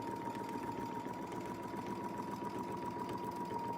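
A sewing machine stitches a loop with a Westalee ContiClip quilting tool from Sew Steady, a steady, close mechanical whir with a fine, even rapid pulse running unbroken throughout.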